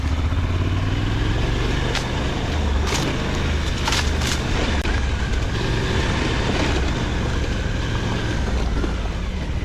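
A Suzuki V-Strom motorcycle engine drones continuously with rough, rumbling noise off-road, punctuated by a few sharp bumps and rattles as it rides over uneven ground.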